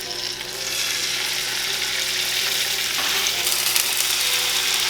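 Oxtails browning in a hot pan give a loud, steady, close sizzle that swells and brightens partway through and holds a dense hiss to the end, with no talking.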